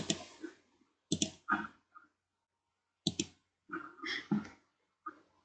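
Computer mouse clicks while working in microcontroller simulation software for a PIC16F chip, coming as a few sharp, close clicks in scattered small bunches separated by silence.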